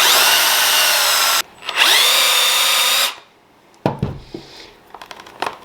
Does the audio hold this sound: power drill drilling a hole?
yes